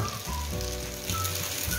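Arvi tikka pieces shallow-frying in a pan, a close steady sizzle with crackling pops and a few spatula touches, no speech over it.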